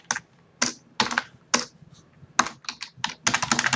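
Computer keyboard typing while JavaScript code is entered, heard as short clustered bursts of crisp key clicks with brief pauses between them, close and alone with no talk.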